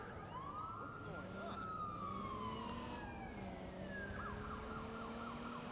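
Police car sirens wail in a Watch Dogs 2 street chase, rising and falling steadily over continuous traffic and engine noise, with a person talking over them.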